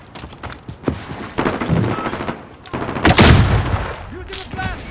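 Gunfire in the Modern Warfare video game during a Domination match: loud, close bursts of rapid automatic shots and single cracks, mixed with shouted voices.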